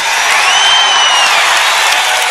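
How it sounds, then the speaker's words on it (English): A large crowd at a rock and roll stage event cheers and claps in a steady, dense roar of applause that holds loud and even throughout. "Thank you for the cheers and the claps"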